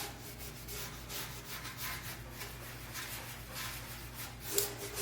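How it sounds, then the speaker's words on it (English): Paintbrush dry brushing pink paint over the detailed surface of an office desk, producing faint, soft bristle scrubbing strokes in a repeated back-and-forth rhythm, close up and quiet. "Dry brushing that pink over all this detail."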